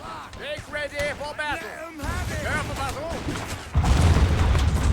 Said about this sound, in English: we're going to bring in the ship's artillery right there